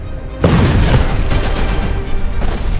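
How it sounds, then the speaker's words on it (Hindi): Explosion in Damascus, Syria, during an Israeli strike near the presidential palace: a sudden loud boom that bursts in and leaves a long, rumbling roar with lingering crackle, very close and loud, with no voices. "दमिश्क धमाकों से थर्रा उठा है।"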